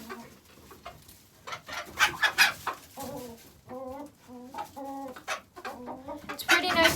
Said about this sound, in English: The chickens are going crazy.